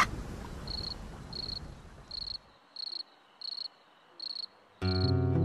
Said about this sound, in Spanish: ¿Escuchaste al grillo?